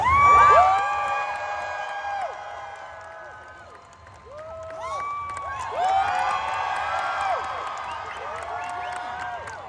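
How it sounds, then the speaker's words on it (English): A large convention audience at a Lord of the Rings panel applauds and cheers, loud clapping mixed with whoops and shrill high shouts that dip briefly before swelling again. "So please give a round of applause to the Hobbits."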